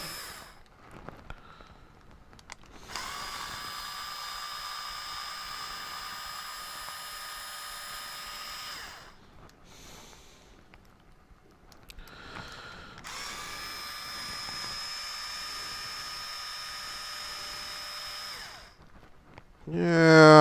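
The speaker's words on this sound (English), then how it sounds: "I'm so glad I have this power tool. Saves so much time here." A whining power driver spins out the four screws on the back of a TRX4 RC differential in two long, steady high-pitched bursts, each several seconds long, separated by short pauses and quiet handling sounds.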